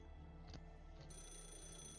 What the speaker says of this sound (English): Is that a phone? It just started ringing all of a sudden.